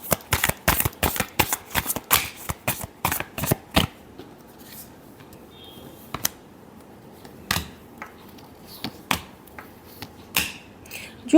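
Tarot cards are shuffled in a rapid run of crisp riffling flicks, then a few scattered, softer taps and slides of the deck follow, close and with no voices.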